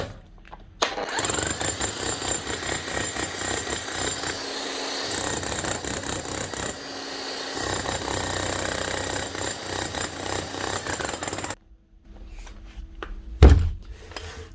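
A faulty Bosch or Milwaukee hammer drill runs in long, loud, rough bursts with a harsh slapping rattle, broken by brief pauses, then a short quiet spell and a single sharp knock near the end.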